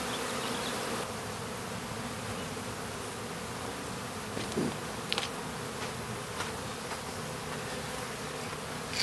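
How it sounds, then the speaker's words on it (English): Bees hum in a steady, dense drone, close and continuous, with a few brief buzzes passing nearby. "So much for killer bees."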